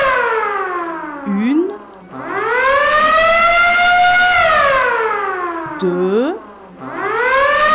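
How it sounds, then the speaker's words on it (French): A school earthquake-drill siren sounds in long rising and falling wails that repeat, loud and close, while a voice counts aloud between the blasts. "La sirène retentit. On compte 5 coups courts."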